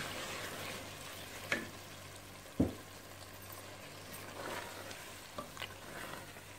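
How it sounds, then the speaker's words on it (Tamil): Mutton fries with masala in a pan, a quiet steady sizzle broken by a few sharp spoon scrapes and clanks as it is stirred, close by with no talk. "இப்போ மட்டனை சேர்த்துடலாம்."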